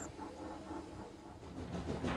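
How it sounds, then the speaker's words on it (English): Steam hiss from a toy engine on a wooden railway, a soft, steady breathy rush that swells slightly toward the end, heard alone. "he let out a sad wheesh of steam"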